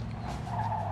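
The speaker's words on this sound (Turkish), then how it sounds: "Araba çok kayıyor." A car's tires skid and squeal in the Mafia 2 video game, a brief, rough, low rumble with a faint screeching edge over engine noise.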